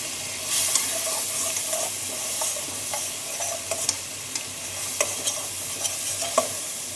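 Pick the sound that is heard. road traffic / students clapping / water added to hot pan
water added to hot pan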